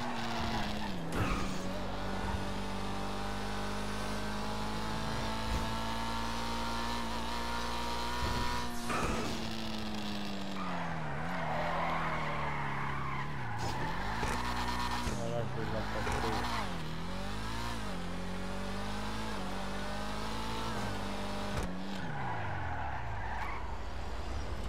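A car in Grand Theft Auto V on PS4 revs hard through the whole stretch, its engine pitch climbing and dropping with shifts and sharp swerves, loud and continuous.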